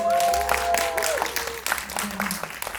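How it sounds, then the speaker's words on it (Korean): Applause from a seated audience at a film screening Q&A, a dense steady patter of many hands close by, with a sustained tone and faint voices underneath. "박수!"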